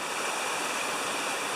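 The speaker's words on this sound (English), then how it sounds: "You have these tubs being filled by the flow of the river currently." Creek water pours into natural rock tubs at Bull Creek, a steady, close, rushing splash with an even hiss and no voices.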